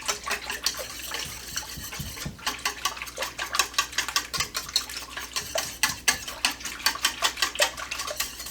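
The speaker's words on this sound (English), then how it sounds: "We'll whisk all this together." Pumpkin cloverleaf roll ingredients whisked in a bowl: a steady run of quick, close clinking and scraping strokes, growing brisker and more rhythmic toward the end, with no talking.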